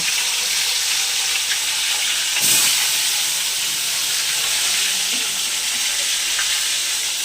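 Fish frying hard in a thin wok over a high flame, a dense steady sizzle and hiss throughout with a brief louder burst of spitting partway through, close and loud with no talk.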